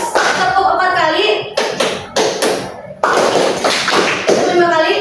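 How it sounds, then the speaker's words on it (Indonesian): A class of students clap together in a four-count pattern, giving a few sharp, crisp handclaps close by, with speaking voices between and around them. "Tepuk 4 kali."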